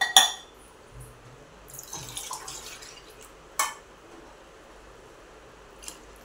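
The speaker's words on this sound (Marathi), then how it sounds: "त्यामध्ये आपण आता पाणी टाकूया." Water poured from a glass into a pot of bitter field bean curry with mixed vegetables on a gas stove: a sharp splash at the start, a few softer sloshing bursts, then quiet with a faint drip near the end.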